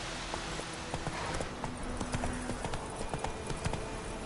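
A horse's hooves clip-clop in the Witcher 3 video game, a close, steady, rhythmic trot of sharp hoof strikes over a low background bed.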